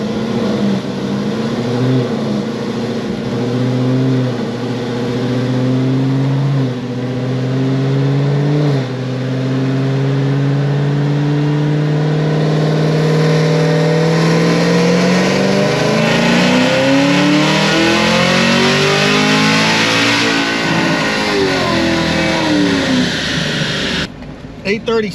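A Whipple-supercharged 6th-gen Camaro ZL1 runs a full dyno pull on pump gas, rising through the gears with loud, climbing revs and supercharger whine before cutting off abruptly.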